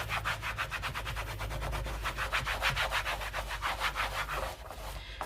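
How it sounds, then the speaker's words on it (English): A dry towel rubbing back and forth over a Louis Vuitton Toiletry 26 bag, a close, steady series of quick scratchy swishes in an even rhythm with no talking. "I'm just taking a dry section of the towel and just going back over what I just did."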